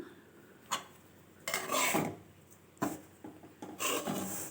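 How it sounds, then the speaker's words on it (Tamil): Rice flour dry-roasting in a pan for kolukattai, stirred in bursts of gritty rasping and scraping, with quiet gaps between strokes and no talk. "இதை நம்ம நல்லா வறுத்து எடுத்துக்கலாம்"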